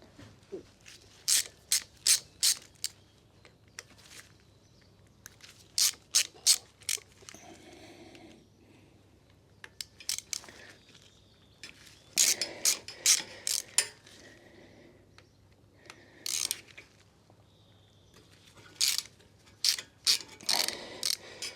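Clutch cover bolts on a Harley-Davidson M8 Heritage being loosened with a wrench: close, sharp bursts of ratcheting clicks in quick runs, separated by short pauses, with no talking.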